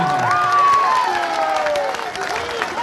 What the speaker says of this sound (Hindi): आप बजा लो ताली जितना जोर से बजाना